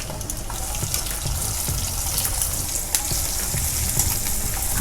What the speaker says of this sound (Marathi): लसूण थोडा परतून घ्यायचा, आपण लाल होऊ द्यायचा आहे